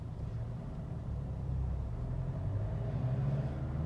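A Nissan NP300 pickup with a power-loss fault on a road test, its engine a low steady rumble and drone heard from inside the cab while accelerating through the gears, fairly faint and without talk.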